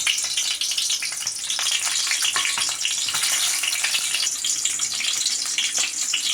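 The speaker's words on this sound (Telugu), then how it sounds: "టప టప అని శబ్దాలు వస్తున్నాయి ఇలా ఈ రకంగా కొంచెం జాగ్రత్తగా మీరు ఫ్రై చేసుకోండి" Eggs frying in hot oil with salt and chili powder, a dense, continuous crackle and sizzle with rapid popping spatters, close and loud throughout, no talking.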